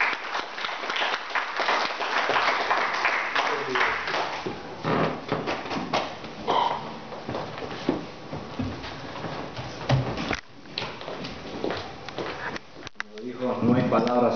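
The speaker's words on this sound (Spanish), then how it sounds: "Dámosle un aplauso fuerte al Señor" A Pentecostal church congregation claps for the Lord, the applause uneven and fluctuating with scattered sharp slaps and brief dips, a voice or shouts mixed in near the end.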